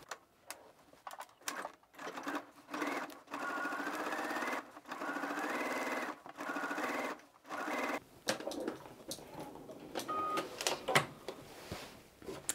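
A sewing machine runs in several bursts as it stitches a second row along a dress pocket, with short pauses and rhythmic mechanical whirring between them.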